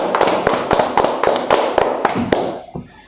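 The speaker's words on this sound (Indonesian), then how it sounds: "Kita beri aplaus dulu untuk Mbak Citra." A small group claps for a participant during a group therapy session. The applause is brief and steady, with sharp, evenly spaced claps close by, fading out after about two and a half seconds.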